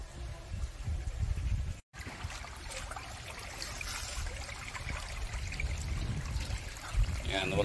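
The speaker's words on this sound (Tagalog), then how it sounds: "Ayun siya, tubig ng tilapia. Papalit tayo ng tubig." Water from a tilapia fish pond drains and pours out outdoors in a steady, continuous trickling gush, with one brief dropout near the start and a slightly louder splash toward the end.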